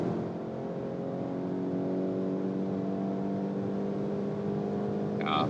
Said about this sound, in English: Yeah, very good acceleration.